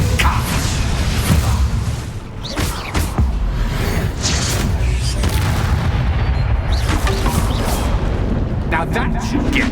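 Booming blast from the Confringo spell in Hogwarts Legacy, a heavy explosive burst with rumbling tails amid other combat whooshes and impacts, with a voice speaking over the fight.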